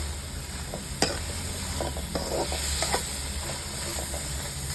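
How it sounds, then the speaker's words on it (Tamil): Broccoli and corn being lightly stirred in a pan after salt is added, a close, continuous sizzle broken by a sharp clack and several scraping strokes of the spoon. "உப்பு சேர்த்துட்டு அப்படியே லைட்டாக கிண்டி விட்டுட்டு"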